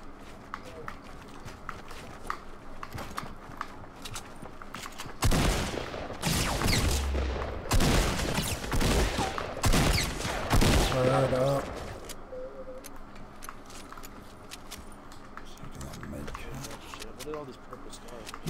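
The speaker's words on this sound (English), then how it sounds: "Keep firing." Video game gunfire from a live-streamed shooter, a dense burst of loud rapid shots in the middle of the stretch, with quieter footsteps and movement before and after and a person talking throughout.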